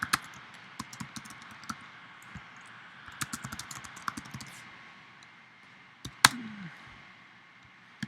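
Keys clatter on a computer keyboard as a name is typed, with scattered soft clicks from a mouse; one sharper click stands out near the end, all at close range against quiet room tone.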